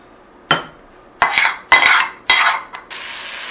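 Cooked tomatoes and tomatillos being scraped and spooned from a frying pan into a bowl, making several loud, close clanking and scraping bursts with short pauses between them, and no talking.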